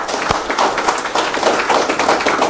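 An audience claps at an inaugural address, a brief burst of sharp, fairly loud hand claps in an irregular patter with no talking.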